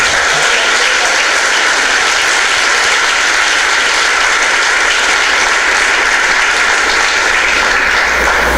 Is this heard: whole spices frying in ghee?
no